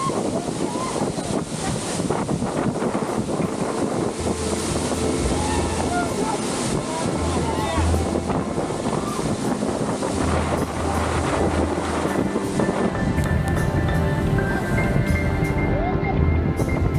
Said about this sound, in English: This incredible high waterfalls is surrounded by numerous other waterfalls as well.